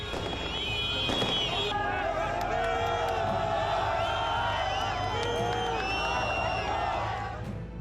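Large crowd in the West Bank cheering and whooping to welcome released prisoners, a dense steady roar with whistles and shouts throughout.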